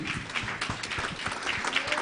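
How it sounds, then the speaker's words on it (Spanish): A church congregation at an evangelistic service in Bonaire claps together in praise, a dense, steady patter of many hands filling the room with a few scattered voices underneath. "Un aplauso al Señor."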